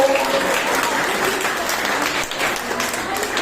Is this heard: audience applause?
yes